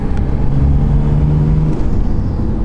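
Turbocharged Alfa Romeo engine pulling hard under full boost from around 2,000 RPM, a loud, steady low drone with a rising tone that holds for a couple of seconds before easing.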